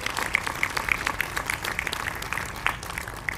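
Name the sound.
audience applause for priests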